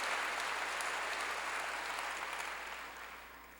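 A church congregation claps together in praise during a worship service, a full, even wash of applause that slowly fades toward the end.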